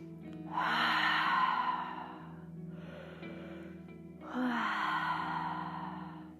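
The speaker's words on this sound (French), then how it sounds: "grande expire par la bouche pour tout relâcher" Two long, deep exhales through the mouth during a Hatha yoga breathing exercise, close and breathy, separated by a softer breath in between, with no speech.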